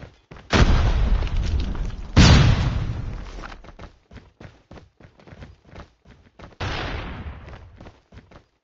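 A flashbang grenade bursts in Rainbow Six Siege with sharp, loud blasts that trail off, repeated a few times among quick rapid gunshots in a tense indoor firefight.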